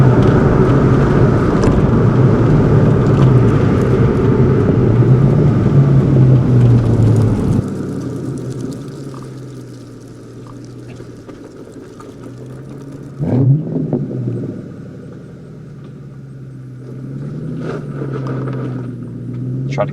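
A 2001 Ford Mustang Saleen, just under 300 horsepower, pulls off gravel with a loud engine rumble and crunching tires, then quiets to an idle before revving again.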